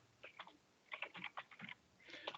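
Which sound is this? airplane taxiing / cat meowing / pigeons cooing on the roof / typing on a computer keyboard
typing on a computer keyboard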